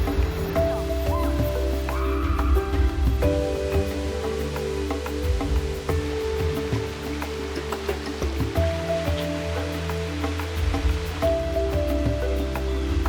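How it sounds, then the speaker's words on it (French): Napuru waterfall on the fertile green slopes of a volcano, a constant full rush of falling water with steady broadband roar, close and loud, with faint tonal sounds layered over it. "C'est une très belle cascade."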